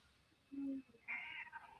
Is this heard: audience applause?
no